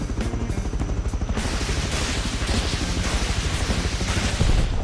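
Attack helicopter in the game Rust firing high-speed rockets that fly straight. A steady low rotor chop runs throughout, with a dense, loud rushing blast that swells in after the first second and keeps going to the end.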